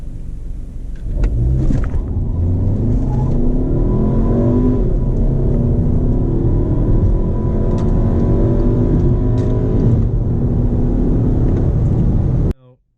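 A 2014 Volkswagen Passat TSI launches hard from a brake stand at about 2,500 RPM, its engine roaring loud and close as it pulls steadily through the gears for several seconds before cutting off abruptly.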